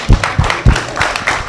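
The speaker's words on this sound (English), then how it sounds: "He needs a round of applause." A conference audience breaks into applause during a fireside chat on stage, a scattered round of claps with a few sharp, heavy hits standing out near the start before settling into a lighter, steady patter.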